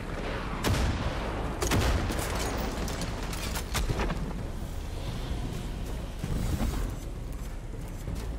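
Grenade launcher blasts and gunfire in the shooter game Far Cry 6: dense, continuous battle noise with several heavy booming bursts standing out over a rumbling bed, loud and close.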